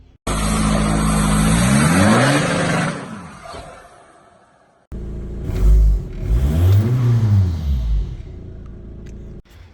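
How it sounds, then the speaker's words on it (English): A Volkswagen Mark V TDI diesel engine revs up and falls back twice, each rise and drop clearly heard close by, with a short quiet gap between the bursts. "that's just a Volkswagen Mark V TDI that I'm mucking around with at the moment"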